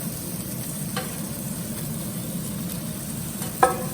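Egg and bacon frying in a non-stick pan, a steady close sizzle with a few soft scrapes of a metal spatula and one sharper clink near the end; no talking.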